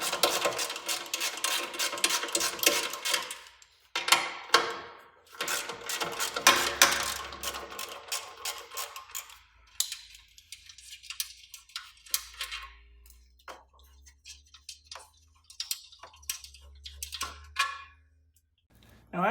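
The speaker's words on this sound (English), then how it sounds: "grab your 13mm ratchet and pull those off" Close ratcheting clicks and metallic rattles from a 13mm ratchet removing bolts from a Motech skid plate on a Honda NC700X motorcycle, in busy bursts with pauses, then sparser ticks and clinks near the end.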